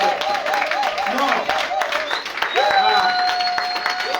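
A church congregation breaks into applause, a dense patter of clapping running throughout beneath a sustained, tonal voice that carries over the whole stretch.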